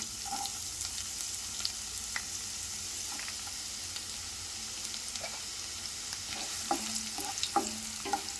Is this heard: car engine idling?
no